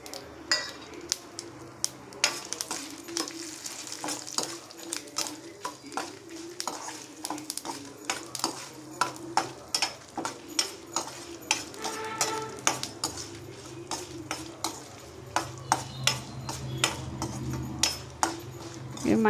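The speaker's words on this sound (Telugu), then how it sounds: "ఇవి మంచి స్మెల్ వచ్చేదాకా వేయించుకోవాలి." Tempering spices frying in a teaspoon of hot oil in a pan, with a low sizzle and frequent sharp clinks of a spoon stirring against the metal, close and steady throughout.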